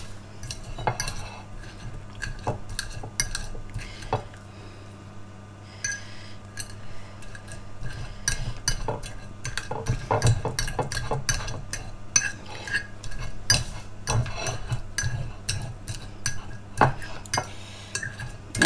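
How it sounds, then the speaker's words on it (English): Fork squashing strawberries in a bowl: a long run of irregular metallic clinks and scrapes against the dish, close and fairly loud, with soft squelchy pauses between strokes. "I might get another fork and I am going to squash my strawberries the best I can."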